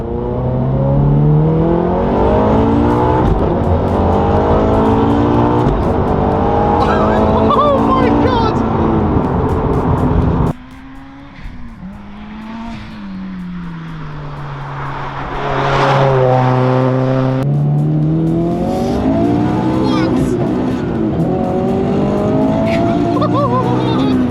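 A 400 HP turbocharged Subaru BRZ engine revs hard on high boost, rising harmonic pitch sweeping upward through gears, a brief lift-off dip midway, then climbing again, loud and close throughout.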